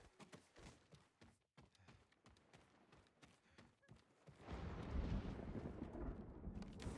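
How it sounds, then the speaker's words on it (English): Thunder from lightning in the video game Ghost of Tsushima breaks in as a deep, loud, sustained rumble after a stretch of faint footsteps and rustling, with no talk over it. "There's lightning in the game."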